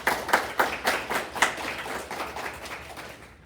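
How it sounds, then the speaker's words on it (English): A small group claps in a brief round of applause, the claps loud at first and then fading out after a few seconds. "Please join me in giving these folks a round of applause."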